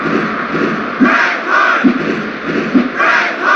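Crowd noise from the PlayStation wrestling game WWF War Zone, a steady roar of cheering and shouting fans with swelling bursts, loud and continuous throughout.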